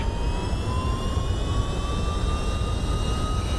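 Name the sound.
MD-11 thrust reversers after touchdown, X-Plane 12 video game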